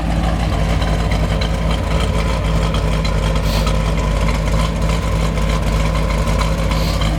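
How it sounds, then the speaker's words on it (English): A 1972 Corvette with a 454 big block V8, four-speed and original-style square tip exhaust idles nearby, a deep, steady, loud burble that stays even throughout with no talking. "nothing like driving a 4-speed 70s Corvette with a big block"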